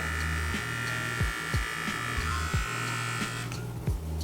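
A steady, fairly quiet electric buzz from a Xiaomi MiTu hair trimmer running continuously, with faint rhythmic thumps beneath it.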